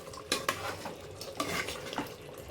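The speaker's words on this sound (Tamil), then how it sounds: "நல்லா நம்ம மிக்ஸ் பண்ணிக்கலாம்." A spoon stirs homemade beef gravy in a cooking pot, giving a few sharp metallic clinks and soft scraping swishes against a quiet, faintly sizzling background.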